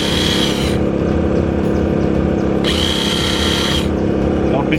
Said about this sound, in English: We're gonna pre-drill some holes.